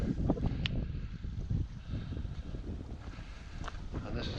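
Gusty wind buffets the microphone on an April mountain walk up Snowdon, a steady low rumble with brief stronger gusts, close and fairly loud throughout with no clear speech.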